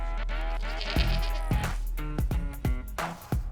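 Goats bleat at an outdoor goat yoga session, with several loud, close, wavering cries coming in quick succession.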